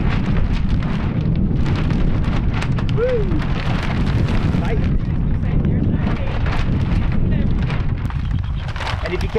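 Steady roaring wind during a blizzard at a geodesic dome frame build site, loud and continuous throughout, with people talking over it.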